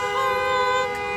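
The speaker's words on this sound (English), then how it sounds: "They're honking at her now." Car horns honk in a sustained, steady tonal blare that fills the whole moment, with a faint hint of a voice underneath.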